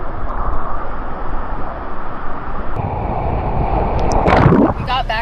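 Waves breaking along a rocky coastal Maine beach, a steady broad wash of surf with wind buffeting the microphone and a splashing surge near the end, with voices faintly underneath.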